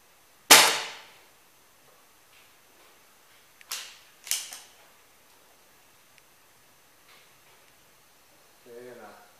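Pellet rifle shots: one sharp, loud crack followed by two quicker, quieter reports a few seconds later, each with a short decay, in a quiet outdoor setting with faint handling noise.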